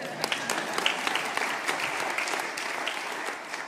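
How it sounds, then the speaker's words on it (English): An audience claps steadily at a university end-of-year celebration, a dense crowd applause that holds evenly from start to finish with sharp individual claps poking through. "We can clap."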